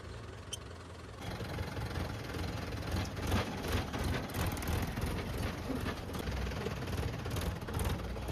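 A Kubota tractor engine runs steadily at close range, a continuous low rumbling drone that holds even for several seconds with no one speaking.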